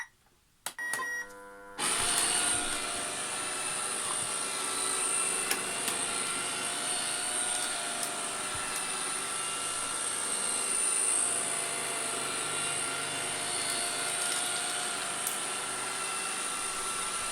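A Chinese-made robot vacuum cleaner running in spot cleaning mode, starting with a few beeps, then a loud steady whirring motor hum with brushing noise continuing without a break.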